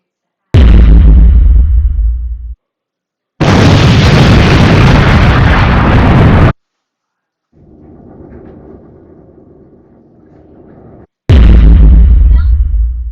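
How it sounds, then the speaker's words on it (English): Explosion sound effects previewed in an intro maker app: several loud booming bursts separated by silent gaps, with a quieter rumbling stretch in the middle and no talking. "you have continuous explosion, all these"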